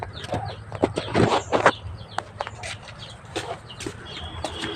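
Chickens cluck in a farmyard at feeding time, several short bursts of clucking at moderate distance with a few footsteps and scattered rustles between them.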